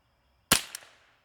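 A single sharp rifle shot from a Ruger 10/22, a loud crack with a short decaying tail and a faint second snap just after, nearby and otherwise quiet.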